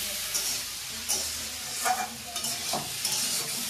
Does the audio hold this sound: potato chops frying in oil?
yes